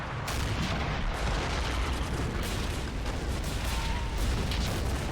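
Field artillery fires in the video game Army Men of War, a dense, loud barrage of booming shots and explosions. The blasts overlap constantly, with sharp cracks standing out against a heavy rumbling battle din.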